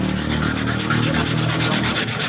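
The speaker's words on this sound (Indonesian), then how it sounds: "ini kita langsung gosoi tangkinya ini. Kita gosoi sampai benar-benar halus." Hand sanding the fuel tank of a Yamaha RX King motorcycle, a steady close scratchy rubbing with quick regular back-and-forth strokes that continue without a break.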